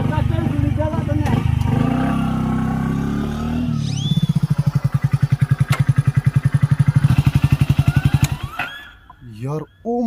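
A motorcycle engine idles and then chugs in a rapid, steady putter close by, with voices talking over it.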